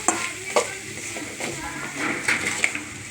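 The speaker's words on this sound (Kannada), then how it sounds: "ಒಗ್ಗರಣೆಗೆ ಈ ಸೊಪ್ಪೆಲ್ಲ ಮಿಕ್ಸ್ ಆಗಬೇಕು" Chopped dill leaves being stirred into a frying tempering in a pan, with repeated scraping stir strokes over a steady sizzle, close and moderately loud; faint speech is also audible.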